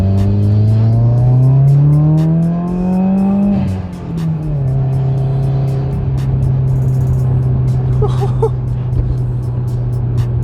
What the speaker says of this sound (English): Here's nice little second gear pull.